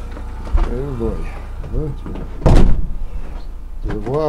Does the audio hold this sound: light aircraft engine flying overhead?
no